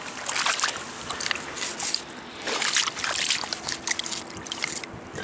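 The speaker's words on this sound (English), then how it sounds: "Let's give it a little rinse off." Water sloshes and trickles as a bottle found while mudlarking on the River Thames is rinsed off, with close, irregular splashing bursts.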